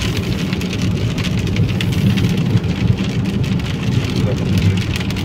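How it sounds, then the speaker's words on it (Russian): Heavy rain pours down steadily during a car drive, a dense and loud hiss with constant drumming that holds at the same level throughout, with the low rumble of the vehicle underneath and no voices. "И потом едем, где-то в Титеровке начался дождь."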